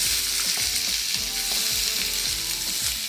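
Onion, ginger, garlic and tomato frying in a pan for chicken chops, with a dense, loud sizzle throughout and faint rhythmic scraping beneath it, close up, no one speaking.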